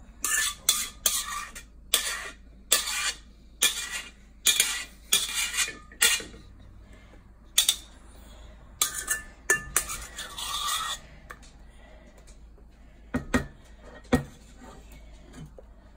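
A knife slices ham on a cutting board for a ham, cheese and broccoli quiche, giving sharp, close clicks and taps in uneven bursts with quiet gaps between them. No one speaks.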